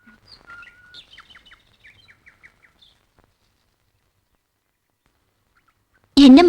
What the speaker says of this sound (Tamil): இங்க இருந்தா பறவைங்க பறக்கிறது, அதுங்க கத்துறது